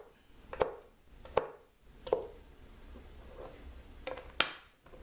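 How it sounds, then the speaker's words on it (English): Knife chopping dandelion roots into smaller chunks for a roasted drink, with five sharp, separate cuts at an uneven pace, close and fairly loud, no one speaking. "The roots I'm going to cut into smaller chunks."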